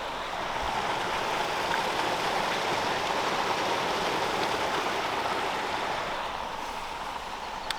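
Light rain starts falling beside the River Severn as the walker heads into a wood, a soft continuous hiss of spots and drips, steady and even, with no voices.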